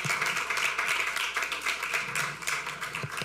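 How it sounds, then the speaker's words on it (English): People at a board meeting applaud, a few seconds of close, brisk clapping from a modest group with uneven, overlapping claps. "yeah, you can applaud that"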